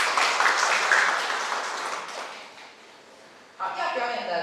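Audience applause for a singer being introduced at a school-style performance, a dense wash of clapping that swells loudly at the start, fades away, then picks up again near the end, with a host's voice over it.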